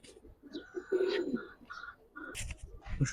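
Pigeons coo at a pigeon market in short, soft, low calls, one after another, with faint chirps and rustling close by.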